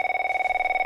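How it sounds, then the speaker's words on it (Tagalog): Telephone ringing with a fast electronic trill, a steady buzzing tone pulsing rapidly for under a second, close and clear with no voices. "Nagkiriring day ta telepono"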